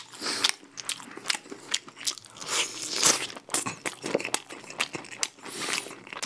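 Crunchy Goobne honey curry fried chicken leg being bitten and chewed up close, a rapid series of crisp crackling crunches and rustles with no talking.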